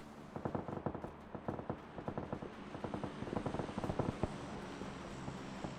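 Rapid gunfire crackles in a PUBG match, bursts of sharp shots in quick uneven clusters, some close and punchy, others more distant, continuing steadily throughout.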